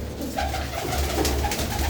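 Pigeons coo repeatedly at close range, soft throaty rolling calls in a steady loose rhythm with no talk over them, set against a low background hum from a rooftop loft of racing pigeons.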